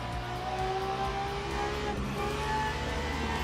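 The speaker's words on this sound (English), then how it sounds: "another hypercar arriving at the braking zone" A Le Mans hypercar in the Le Mans Ultimate racing game at Imola, its engine droning steadily with shifting tones as it brakes and passes close by, loud and continuous without talk.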